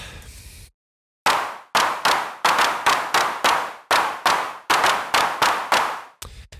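Synthesized drum machine claps from the Cherry Audio Voltage Modular synth, sharp and dry, fired one after another in a steady pattern of about a dozen hits with short decays, loud and close, no voices.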